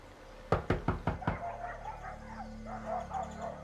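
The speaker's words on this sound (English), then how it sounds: "You guys keep knocking." Sharp knocking on a door, six quick loud raps in an even burst, followed by faint room tone and low murmuring with no clear words.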